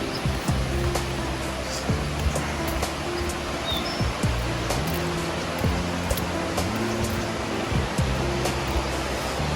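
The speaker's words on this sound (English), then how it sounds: "There's some little waterfall over there." A small waterfall near Tumpak Sewu in East Java, its steady rushing water hissing continuously, with occasional faint knocks and thumps nearby.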